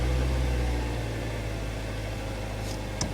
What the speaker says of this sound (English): It's gonna start idling down here.